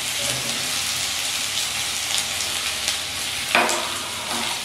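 Raw mango pieces sizzle in hot oil with mustard seeds and dried chilli, a steady close frying hiss with a brief sharp crackle near the end.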